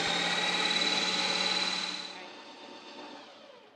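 A Ninja Creami machine spins on its ice cream setting with a loud, steady high-pitched whir, then winds down and fades over the last couple of seconds.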